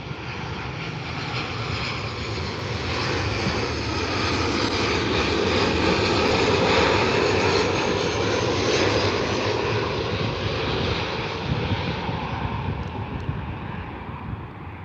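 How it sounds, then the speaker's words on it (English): A WestJet Boeing 737-700 at Vancouver's YVR airport roars with a loud, steady engine drone that swells and holds across the whole stretch, broadband and close, with no talk over it. "That's a WestJet Boeing 737-700."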